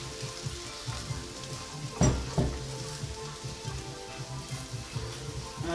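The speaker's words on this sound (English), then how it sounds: "I'm just gonna let it fry for a bit." Oatmeal pancake batter fries in a pan with a soft, continuous crackling sizzle, broken by a couple of brief clinks around the middle, heard fairly close and fairly quiet.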